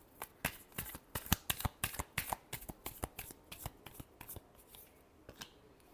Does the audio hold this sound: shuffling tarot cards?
yes